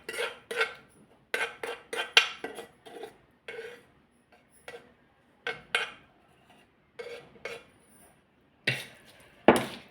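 Hot tempering oil is poured into a fresh mango pickle with garlic, then stirred. A spoon clinks and scrapes against the bowl in sharp, irregular bursts with quiet gaps between them.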